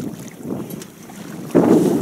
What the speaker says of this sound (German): Wir sind jetzt hart am Wind und können den Kurs gerade noch knapp anlegen.